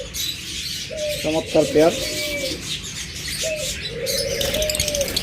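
Pet birds, forpus, lovebirds and budgerigars, call in short high chirps and warbling notes near the listener, while someone speaks briefly over them.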